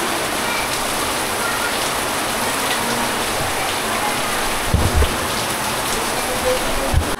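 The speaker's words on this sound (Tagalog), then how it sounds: "ang lakas ng iniulan" Heavy rain pours down steadily at a cemetery, a loud dense roar of drops with a few sharper splashes and knocks close by.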